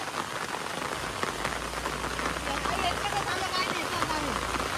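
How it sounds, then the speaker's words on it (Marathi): Heavy rain pours steadily in the Konkan countryside during the monsoon, a dense continuous hiss of drops striking surfaces close by, with voices murmuring faintly underneath. "आणि आता पाऊस जोरात चालू झाला आहे बघा"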